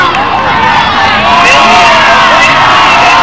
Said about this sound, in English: I know the crowd's loving that over there.